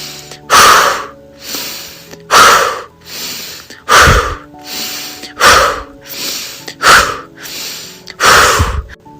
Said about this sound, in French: Enfonce bien le ventre à l'expiration en gardant le même souffle.